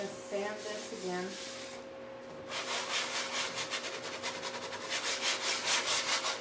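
Sanding block rubbed back and forth over chalk-painted wood, a close, rhythmic scraping that starts after a brief pause and grows louder in steady strokes; a voice speaks briefly at the start.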